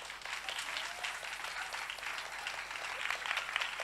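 Church congregation applauding during a Sunday service, a continuous faint wash of many hands clapping, heard from a distance.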